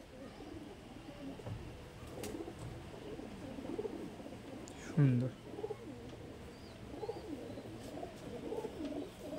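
Female Pagla-line pigeons coo softly in a loft, low repeated burbling calls under a voice, with one louder close coo midway.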